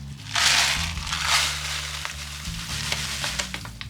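Oats being stirred into a wet mixture in a bowl, a steady scraping, crunching texture with a few louder swishes near the start and soft clicks toward the end.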